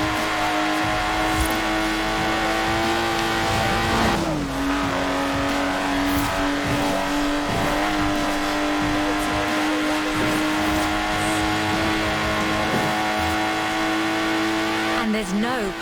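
A Lotus Exige engine holds a steady droning hum in a Forza Horizon 4 drive, its pitch dipping once and then settling. A narrator speaks over the engine throughout.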